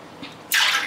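Water and coconut milk are poured into a pot for pulao, a soft trickle followed by a sudden louder gushing splash that runs to the end.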